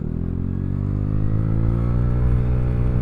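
A Vespa Sprint 150 scooter with its stock variator accelerating: a steady engine drone rising smoothly in pitch as it gains speed, close and moderately loud, with no talk.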